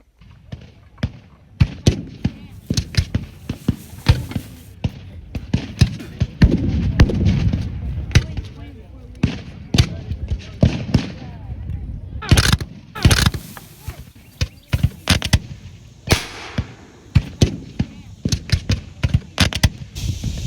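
Civil War reenactors at Antietam fire musket volleys, sharp cracks and thumps scattered over the battlefield, some close and some distant, between shouted commands.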